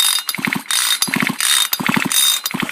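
A ratchet works on the spark plug of a Red Max handheld blower, giving close, crisp clicking bursts in four quick repeated groups, each a rapid rattle of pawl clicks.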